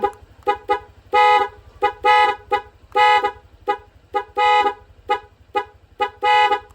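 A car horn honks repeatedly at close range, mixing short taps with longer blasts in an irregular pattern, while a low engine hum runs underneath.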